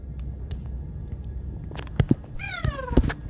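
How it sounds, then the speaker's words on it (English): A cat meows in the video game The Baby in Yellow, a few short falling mews in quick succession near the end, loud and close over low background game ambience. "It's the kitty cat!"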